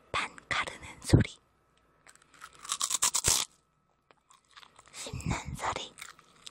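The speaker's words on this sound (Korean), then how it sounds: "반 가르는 소리" A heavily seasoned, slightly spicy snack is snapped in half close up, giving one sharp crunchy crack around the middle of the clip, with bursts of hushed talking before and after.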